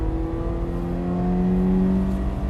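A car engine drones steadily and close while accelerating on a track time trial at Hallett. The tone climbs slowly and smoothly through a sustained pull, with no other sounds.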